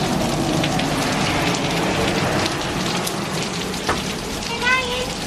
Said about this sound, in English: which has completely flooded the banks and is gushing